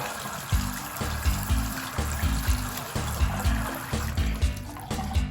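Tap water runs steadily over a Mattel color-changing toy push-along car, a continuous splashing trickle with a soft pulsing rhythm, close and fairly loud with no talk.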